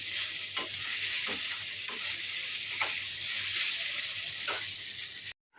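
Chow mein noodles fry in a pan with a steady hissing sizzle, punctuated by a few soft, regular scrapes of stirring, close by and without talk.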